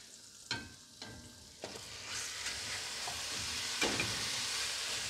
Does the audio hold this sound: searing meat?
yes